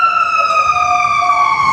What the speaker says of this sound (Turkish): ambulans, itfaiye geçiyormuş.